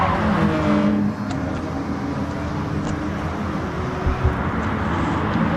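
Supercars on a qualifying outlap at Kyoto Driving Park in a racing video game give off a continuous, fairly loud engine roar with a steady rumbling drone and no clear pauses.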